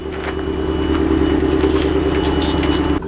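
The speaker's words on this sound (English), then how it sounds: "Got a car backing up." A car engine rumbles close by as the vehicle backs up near a 2019 Blue Bird Vision school bus, a steady low idle-like drone with faint higher noise throughout.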